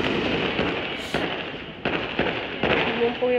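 Firecrackers bursting on the last day of Chinese New Year, a string of sharp pops at irregular intervals over dense, continuous crackling, with a voice talking partway through.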